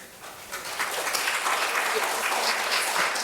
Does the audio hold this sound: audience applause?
yes